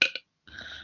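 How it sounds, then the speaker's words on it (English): A short, wet burp comes right up close, followed by a pause and then a second, longer throaty burp that trails off softly. "That is exactly the same as the burp that I did when I tested my microphone."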